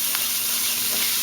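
Garlic sizzles in a pan alongside browning sautéed greens, a steady close hiss with a soft stirring scrape near the start.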